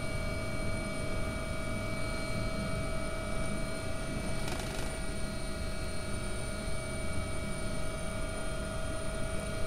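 An AW-139 air ambulance helicopter in the X-Plane 11 flight simulator flies with a steady, dense rotor and turbine drone, including high whining tones, continuous and moderately loud throughout.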